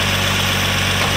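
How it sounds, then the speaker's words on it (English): A Nissan Altima SE-R engine with a new intake manifold idles steadily with a low, even rumble and slight vibration, close by and continuous throughout, with no voices. "That's the idle that we want right there."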